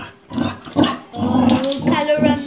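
Chow Chow dog growling at a black ball during play, low rumbling growls in repeated bursts up close, with a voice talking over it.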